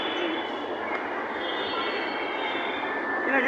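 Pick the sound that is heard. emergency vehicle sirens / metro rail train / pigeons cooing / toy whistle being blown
metro rail train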